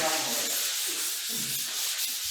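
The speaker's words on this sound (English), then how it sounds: "Looks like they're all skim coating and sanding." Close, continuous rough sanding rasps across skim-coated drywall in long back-and-forth strokes, with no talking.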